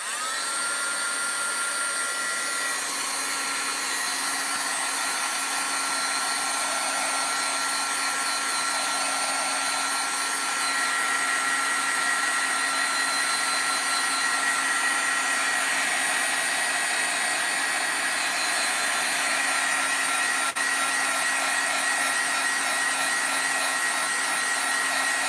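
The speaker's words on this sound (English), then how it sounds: "let me dry this, Linda" A heat tool or dryer blows steadily on a handmade mixed media card, a continuous whirring hiss with a faint motor hum that holds nearly unchanged throughout, with no talking.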